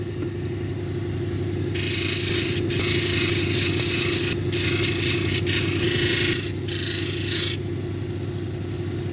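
A brown onyx cabochon is worked on a 600 grit polishing disc: a steady motor hum runs throughout, with loud scratchy grinding bursts in the middle as the stone presses against the spinning disc.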